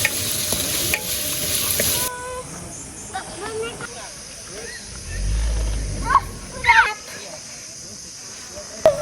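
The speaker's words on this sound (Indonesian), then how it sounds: "Sekarang kita mau buat tumis kangkung." Water spinach stir-fried for tumis kangkung at a resort kitchen, with a soft sizzle and scrape of stirring in the pan, broken by clinks and light clatter, while a voice speaks faintly in the background.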